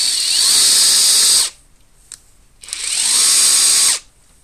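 Draper Expert 3/4-inch brushless impact wrench spinning freely in two close, loud high-pitched bursts of about a second and a half each, separated by a short quiet pause with a faint click.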